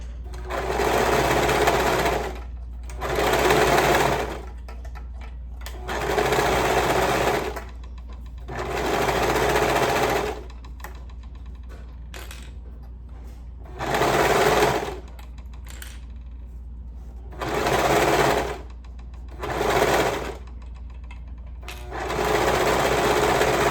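A sewing machine stitches a band onto a sleeve in about eight bursts of varying length, from short to a couple of seconds. A low motor hum carries on between the runs, and the stitching sounds close.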